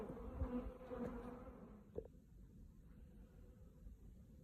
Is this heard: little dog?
no